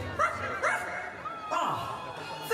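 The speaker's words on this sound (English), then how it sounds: "Where is that dog? There you are, Zero" A ghost dog in a Halloween theme park show gives several short, bright yips and barks in quick succession, fairly close and loud, with faint crowd murmur behind.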